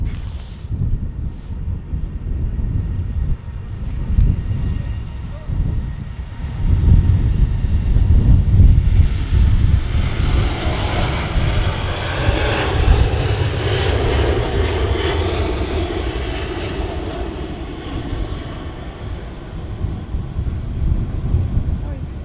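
An Airbus A380 takes off from Manchester Airport, a loud, sustained jet engine roar that builds and holds steadily throughout, heard from outside at a distance with wind buffeting the microphone.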